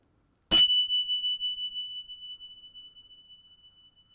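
A single strike of tingsha bells rings out, a bright clear tone that sustains and slowly fades over several seconds in an otherwise silent room.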